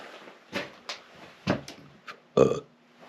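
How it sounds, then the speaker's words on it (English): Several short burps after drinking coffee, a string of quiet gulps and belches with one louder, deeper burp near the end, close by with no talking. "Coffee burps."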